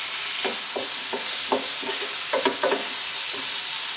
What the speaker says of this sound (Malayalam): അതിലോട്ട് കട്ട് ചെയ്ത ഒരു വലിയ ടൊമാറ്റോ ആഡ് ചെയ്യുക. ഒന്ന് മിക്സ് ചെയ്യുക.